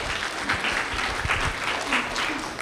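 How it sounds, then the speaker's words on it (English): Steady applause from an audience at an anniversary, internship completion and scholarship ceremony, a dense continuous patter of clapping that holds at even loudness throughout. "Big round of applause, please, for that."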